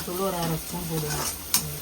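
Onions sizzling in hot oil in a pan for Tamil-style fish curry, with a spoon stirring through them in short strokes; a steady close fry with a brief clink near the end.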